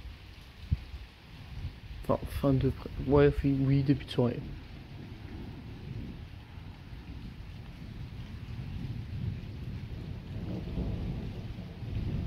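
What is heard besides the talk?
night thunderstorm with rain and thunder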